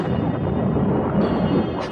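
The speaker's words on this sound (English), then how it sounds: "Thunder crashed outside the house, and the Otises heard a dreadful cry." A thunder crash used as a sound effect in a spoken story rolls as a dense, loud low rumble that sustains for about two seconds without a break.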